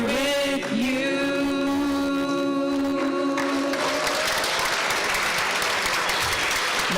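Audience applause at a sanctuary gala celebration, a dense sustained wash of clapping from a large crowd that swells and continues steadily, with a sung or held tone fading underneath at the start.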